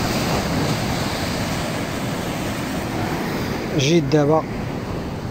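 Sea surf washes steadily at the Moroccan shore during a fishing outing, a broad continuous roar of waves with wind buffeting the microphone, and someone speaks briefly near the end.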